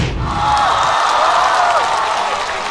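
Studio audience at a Chinese stand-up comedy show applauding and cheering to welcome comedian He Guangzhi, a steady, loud wash of clapping and crowd noise that swells early and holds throughout.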